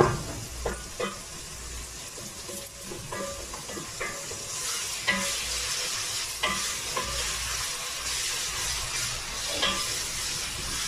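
Chugni cooking with onions and chili in a pan, a steady close sizzle of frying under a repeated scraping and clinking of a spoon stirring at irregular intervals.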